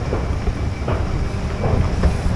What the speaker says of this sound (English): Successfully on the train.